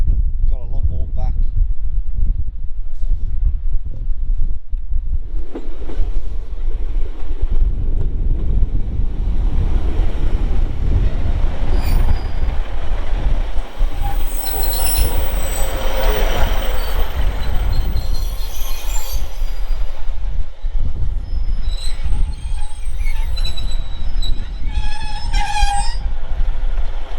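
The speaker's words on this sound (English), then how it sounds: "We need the train to be here and hope that it stops" A train arriving on a coastal railway near Braystones, its rumble building and wheels squealing as it slows, loud and close with wind buffeting, while people talk over it.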